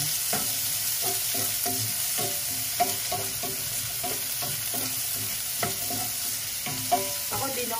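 Ground chicken and string beans stir-frying in a pan, a steady close sizzle broken by repeated scraping strokes of a spatula, with no talking.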